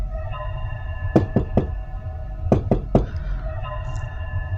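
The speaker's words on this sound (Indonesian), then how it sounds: "Nah, kemudian ketukan kedua ini" Knocking on a house window at night, two quick clusters of three sharp knocks each, close and distinct over a low steady background hum.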